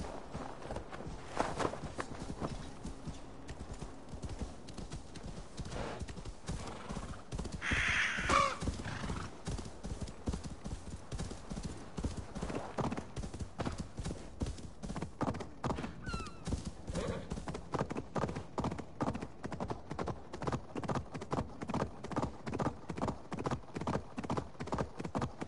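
Horse in the video game Assassin's Creed Valhalla gallops with steady rhythmic hoof clip-clops, a whinny near the start, then continuous fast hoofbeats throughout.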